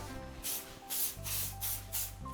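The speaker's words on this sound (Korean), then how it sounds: "얘는 뭐 딱딱하게 굳는 제품 아니고 이렇게 스프레이거든요." A shine-type hair spray misted onto hair in short bursts, four or five close hissing sprays separated by brief pauses, with a faint hum underneath and no talking.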